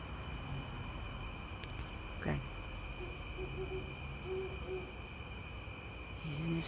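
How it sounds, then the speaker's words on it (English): A great grey owl hoots at night, low soft calls drifting from a distance over a steady hiss of insects and faint background hum. "That's an owl."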